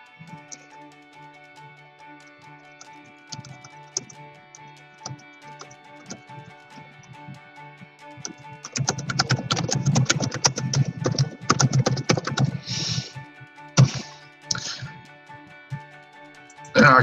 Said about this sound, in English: I'm going to start typing again.